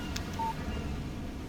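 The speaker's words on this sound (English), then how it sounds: "Text message from Barry" A short electronic beep sounds for a phone text message alert in the Alan Wake video game, a single clear tone over a low, steady ambient hum.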